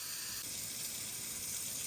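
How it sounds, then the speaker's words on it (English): Water runs steadily from a kitchen tap while Lego pieces are rinsed in a colander, a constant bright hiss that stays even and close, with no talking. "hopefully you can hear me over the running water"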